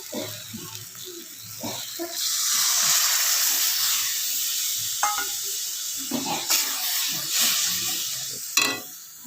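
Water poured into a pan of fried mustard paste sets off a loud, sustained sizzling hiss that swells after a couple of seconds, with occasional stirring clinks and scrapes near at hand.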